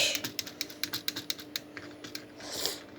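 Quick bursts of keystrokes clatter on a newly bought computer keyboard, a run of crisp close clicks in an uneven rhythm that thins out and ends in a softer rustle, with no voices.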